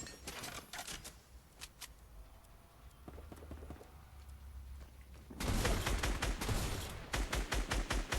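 Gunfire in Fortnite mobile, a scattering of sharp shots at first, then a louder stretch of rapid repeated bursts that dominates the end.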